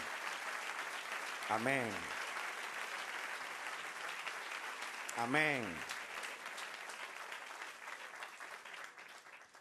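A church congregation applauds during a Spanish-language service, a broad steady wash of clapping that runs throughout while a voice calls out twice over it.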